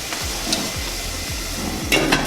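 Mixed vegetables cook in hot oil in a pan, giving a steady sizzle broken by four evenly spaced stirring scrapes, close and alone.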